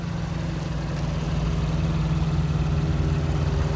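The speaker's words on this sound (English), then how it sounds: "And that engine's running smooth," A 2021 Honda Pilot Touring with all-wheel drive idles steadily, its engine giving a smooth, even hum with a constant low drone and no voices over it.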